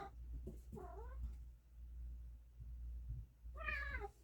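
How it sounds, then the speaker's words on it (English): Two or more house cats yowl and caterwaul in a room, drawn-out wavering cries in two bursts separated by quiet, with a low steady hum underneath. "My cats are crazy."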